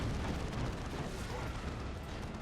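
A steady, heavy roar of explosive blasts fills a busy battle in the strategy game Dawn of War 2, with a dense, continuous rumble and no clear pause between impacts.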